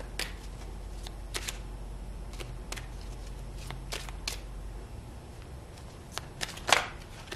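Tarot cards being shuffled in a steady run of crisp riffling and flicking clicks, close and fairly quiet, with no one talking.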